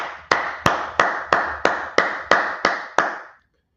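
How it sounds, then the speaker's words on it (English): Nine sharp, evenly spaced claps ring out at a steady beat, each one loud and close with a short echoing tail, as a group claps together in unison before falling silent. "We're going to clap it up."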